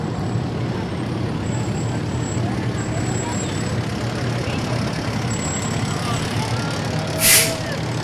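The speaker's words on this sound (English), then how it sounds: "Here comes our company number 2 truck." A fire company truck rolls past in a parade, a loud idling diesel rumble with a sharp air-brake hiss near the end, while crowd chatter and voices carry over it.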